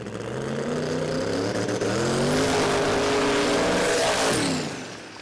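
A drag racing car makes its run down the strip at Willowbank Raceway in Australia, its engine a loud, rising roar that peaks as it passes and then fades.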